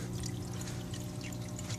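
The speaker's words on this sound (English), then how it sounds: "And then the water kind of pours out." Water pours steadily out of a fish tank filter sock into another sock, a soft, close, continuous splashing trickle lasting under two seconds, with no voices.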